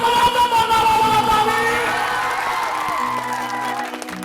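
Audience applause and cheering at a Maithili stage show (Jano Mano Mahotsav), a steady mass of clapping and crowd noise that fills the whole stretch, with a voice and music tones running over it.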